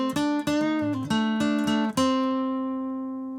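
Acoustic guitar playing a blues solo phrase from Alberta, a run of plucked notes with slides, then a final note left ringing and slowly decaying, alone with no talking.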